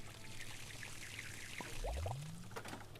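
A steam locomotive in a train video game takes on water, making a soft, steady pouring and splashing flow with a rising tone midway, fairly quiet and with no voices.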